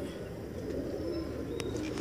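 Pigeon at a Multan pigeon market cooing close by, paired with a hen, a low steady throaty rumble that runs continuously under faint background chirps.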